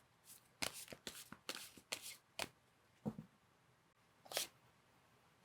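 Tarot cards shuffled during a love reading, heard as a series of crisp, close riffling bursts in quick succession, then a short pause and one more shuffle.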